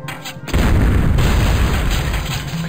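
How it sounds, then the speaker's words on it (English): Heavy artillery cannons firing in the strategy game Total Annihilation: Kingdoms, a loud deep boom breaking in after a quiet half second and rolling on into a sustained, rumbling barrage with no voices. "We just gotta sit in our hill and watch the cannons blow the shit out of all the dudes down here."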